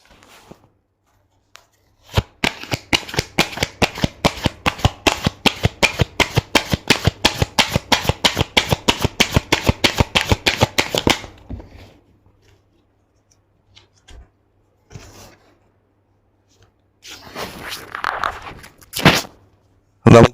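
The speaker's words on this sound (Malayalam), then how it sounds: "ഞാൻ കാർഡ് ഷഫിൾ ചെയ്യാം." Someone shuffles a deck of tarot cards, a rapid close riffle of evenly spaced crisp flicks lasting about nine seconds, then a few soft card handling sounds and taps with no talking.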